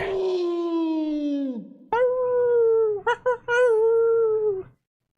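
A monster's long, mournful howl rings out in the Shinjuku stretch of Fate/Grand Order, sliding downward, then rising again in a second wail broken by brief stutters before it fades.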